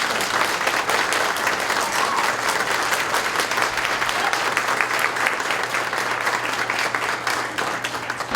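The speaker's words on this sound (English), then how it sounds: "Mike, you got an extra, you got a round of applause." A community audience at a domestic violence awareness event gives a police officer a steady, sustained round of applause, dense clapping filling the room at an even level throughout without letting up.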